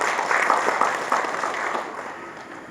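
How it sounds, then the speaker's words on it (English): An audience breaks into a round of applause after a speaker is congratulated, the clapping loud at first with a few sharper claps standing out, then thinning and fading over a couple of seconds. "Please give him a big round of applause."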